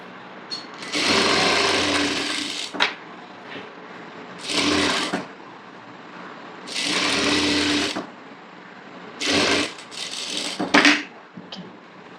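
Sewing machine stitching the lining of a designer blouse neck, running in four or five loud bursts of a few seconds each, separated by short pauses and small handling clicks, with no talk.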